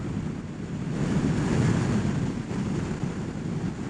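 Wind roars over a rider on a Ninja 1000SX sport-touring motorcycle, a loud, steady rushing buffet against the microphone that swells and eases slightly.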